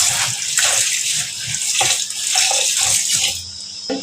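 Rice being rinsed under running tap water while making kacchi biryani, a continuous gushing stream with uneven splashes and swirls as the grains are handled close by.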